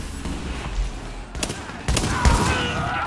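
Gunfire rattles in The Division, a shooter video game, as rapid volleys of sharp shots crack over a constant rumbling background. The shots are loud and layered.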